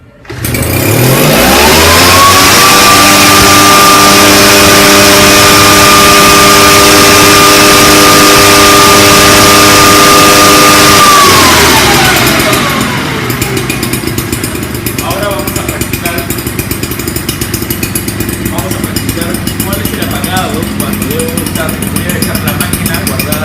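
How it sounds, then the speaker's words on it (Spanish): A PORT 423 Enrich Fogger backpack mist blower's small two-stroke engine fires on a single pull, revs to a loud steady high whine for about ten seconds, then drops to a rough, rattling idle, very close. "la máquina debe encender con una sola jalada"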